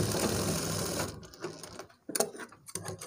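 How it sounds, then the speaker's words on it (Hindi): A sewing machine stitching piping on a trouser back pocket runs in a fast steady whir for about a second, then stops, followed by a few short bursts of stitching and faint mechanical clicks. "और यहाँ पर लगा देंगे सिलाई जिससे हमारी पाइपिंग दोनों रुक जाए"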